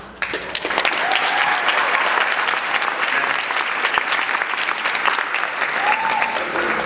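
Sustained applause from an audience at a school spring concert for an honors band, steady and fairly loud throughout, with a few voices faintly audible beneath the clapping.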